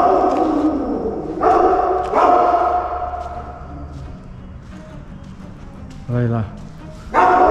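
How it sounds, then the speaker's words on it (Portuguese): A large dog barks in a few loud bursts at an abandoned hospital, with pauses between them and a short yelp near the end, while someone talks nearby. "E pelo jeito tem um cachorro enorme ali."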